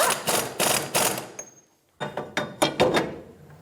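Rear axle nut on a 2003-2007 Infiniti G35 wheel hub being snugged down with a wrench, giving two runs of loud, close, rapid mechanical clicking bursts separated by a brief silent pause.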